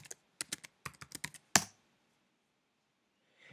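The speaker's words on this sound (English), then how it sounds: "You'll need to type your administrator password." An administrator password is typed on a computer keyboard, producing a quick burst of about a dozen close, crisp key clicks followed by one heavier keystroke, then near silence.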